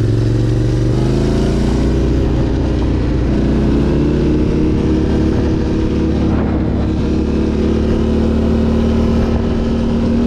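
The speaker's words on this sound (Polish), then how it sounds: "jedzie motocykl" A loud engine roars steadily close by, a motorcycle rumbling along at a motor show, with a constant drone, its pitch barely changing.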